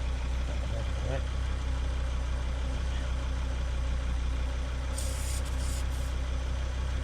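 A portable tyre inflator pumps up a car tyre with a steady, droning motor hum held at constant loudness close by, a brief higher whine appearing near the end.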